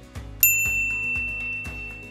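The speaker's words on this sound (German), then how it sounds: "drück auf die Glocke" Subscription notification bell sound effect, a single bright ding that rings out and decays, set over a soft repeating rhythmic background with no talk.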